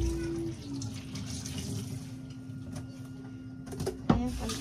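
Tap water running steadily from a faucet into a sink for washing, a continuous broadband wash with a low hum beneath. A sharp knock sounds near the end.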